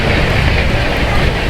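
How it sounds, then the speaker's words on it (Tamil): Rameswaram–Hubballi special express train crossing at speed, a steady, loud, dense rush of wheel and carriage noise filling the whole moment with no break or talk. "ராமேஸ்வரம் வந்து ஹூப்ளி போகக்கூடிய ஸ்பெஷல் ட்ரெயின் நல்லா ஸ்பீடாக கிராஸ் ஆகிடுச்சுல."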